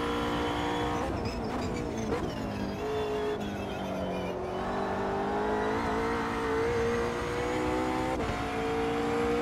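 A race car in the Automobilista 2 video game at Interlagos revs and accelerates through gear changes, its engine pitch climbing and dropping loudly and continuously.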